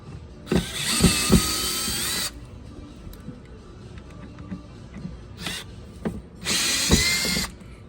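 A power drill backs Phillips screws out of the throttle control on a 2015–2024 Malibu boat, with two loud whirring runs a few seconds apart and a short buzz between them, plus small clicks and handling noise in the gaps.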